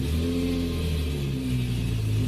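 A BMW E46 M3 with its S54 engine and race exhaust revs, a loud, close, sustained raspy drone with rising and falling pitch, no talking.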